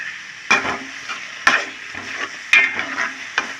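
Mutton pieces and soaked chana dal frying in hot oil, a close sizzling hiss broken by four sharp stirring scrapes at roughly even intervals, with no talking.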